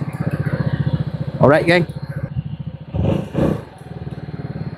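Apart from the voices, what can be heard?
AVETA Nova 250 scooter engine running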